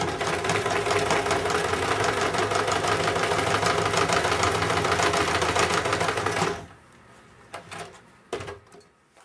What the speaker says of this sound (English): I'm going to sew all the way around really close to that edge.